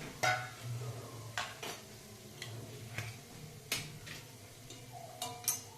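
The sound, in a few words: cumin, cinnamon, cloves and pepper being added to pan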